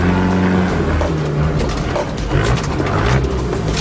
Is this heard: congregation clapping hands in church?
no